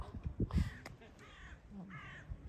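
Several crows cawing in an open, quiet outdoor spot with people around, a few harsh calls in quick succession, fairly close and clear against soft background noise.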